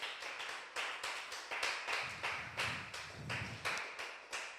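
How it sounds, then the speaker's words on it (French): Applause from a church congregation at a Mother's Day service, honouring the women who took part: scattered hand claps in uneven bursts, moderately faint and reverberant, with no voices over it. "Est-ce qu'on peut applaudir les femmes qui ont répondu ?"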